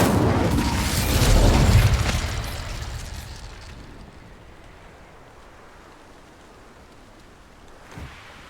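A whooshing fire burst from an Incendio spell in the Hogwarts Legacy video game swells loudly for about two seconds, then fades to a low rumble, with a faint thump near the end.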